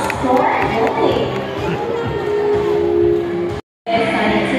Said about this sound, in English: So how about a round of applause for goalie?